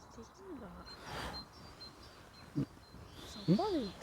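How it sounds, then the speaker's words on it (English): A bird calls outdoors along a former railway route at Lochore Meadows in Fife, with a few short, rising and falling chirps at moderate distance over a low, steady background hiss. "It's a bird. A birdie, yeah, I know, we hear it."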